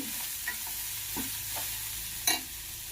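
Beans with coconut frying in a pan give a soft, steady sizzle, with a few light scrapes of stirring, one of them sharper near the end.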